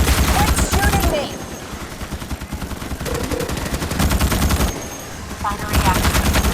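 Rapid machine-gun fire in Starship Troopers: Extermination, dense automatic bursts with brief lulls and a few swooping game effects, loud and close.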